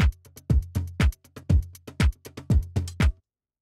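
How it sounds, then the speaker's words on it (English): A pre-built drum loop from Reason's Dr. Octarex loop player, layered over other drums, plays a steady punchy pattern of kicks and crisp hits at a brisk tempo, then stops abruptly. "if you just want to use a drum loop that's already pre-built, you can use the Dr. Octarex loop player"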